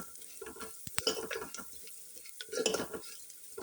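Mustard seeds, curry leaves, dried chillies and cumin frying in a pan for tomato rasam, a light close sizzle broken by sharp utensil clinks and stirring scrapes against the metal, with no one talking.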